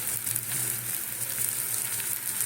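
Asafoetida sizzling in hot oil with onions already fried, a steady bright crackle and hiss that runs throughout, close and continuous with no talk.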